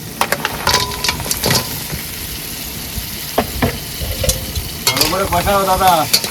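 Crabs frying in oil in a pan at an outdoor picnic, a close, continuous sizzle with scraping stirring strokes and clatter, the hiss swelling louder near the end.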